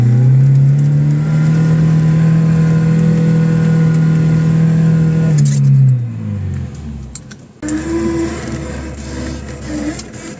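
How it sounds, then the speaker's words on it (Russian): A car stuck in wet snow revs hard in a steady, loud, high drone for several seconds, then the engine note drops and sags away before settling into a quieter, rougher running sound, heard up close and without talk. "Ой, много газа дал, она провалилась."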